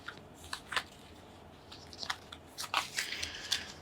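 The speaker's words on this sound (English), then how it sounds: "the cards of the solo mode will once again get shuffled" Playing cards for the solo mode of the board game Age of Comics: The Golden Years are shuffled by hand, in a few short, soft papery bursts close by with no talk.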